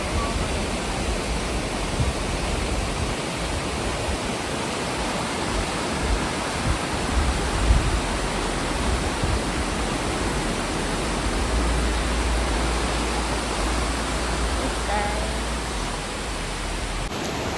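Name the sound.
river water running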